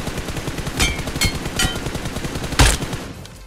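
Video-game automatic gunfire rattles in a rapid, continuous stream, with a few louder shots standing out.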